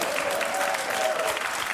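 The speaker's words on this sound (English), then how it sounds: "please clap" A studio audience on a US comedy panel show claps together in a steady, full burst of applause, with faint crowd murmur beneath it.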